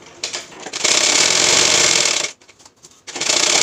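A sewing machine stitches a sleeve seam, a fast, steady rattling hum in two close runs separated by a brief pause, with no talk.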